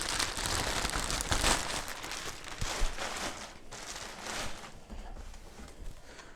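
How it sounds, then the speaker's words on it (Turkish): A plastic bag crinkles and rustles as a Trust Lino XL 2.1 soundbar subwoofer is pulled out of it, with close, irregular crackling bursts that continue throughout. "Bunu hemen şöyle poşetinden çıkaralım."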